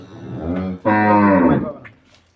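A dairy cow of an improved breed in Dinajpur lets out a loud, close moo: a short lowing note, then a longer, stronger call that fades away.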